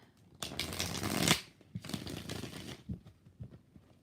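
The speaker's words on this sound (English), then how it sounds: "3 more shuffles." A deck of tarot cards is shuffled in several bursts of riffling and sliding, close and fairly loud, with short pauses and soft card taps between them.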